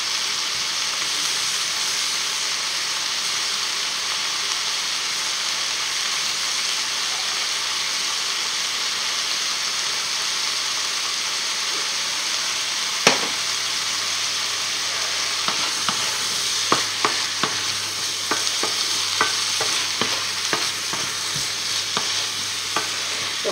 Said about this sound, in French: Remuer souvent, ça permet d'avoir une cuisson uniforme.